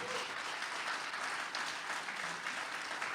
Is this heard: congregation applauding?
yes